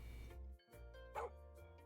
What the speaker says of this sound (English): Is that our new dog?